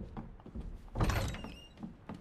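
A locked door in Resident Evil 2 gives a loud rattling thunk with a brief metallic squeak as it refuses to open. Softer knocks come before and after it.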